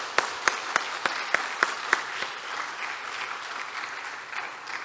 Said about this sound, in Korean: 우리 귀한 간증해 주신 우리 왕기채 성도님과 그 가족을 위해서 우리 격려의 박수 다시 한번 부탁드립니다